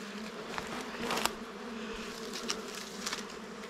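Dwarf honeybees (Apis florea) swarm around their nest, a steady close buzzing drone of many insects with a few louder passes near the listener.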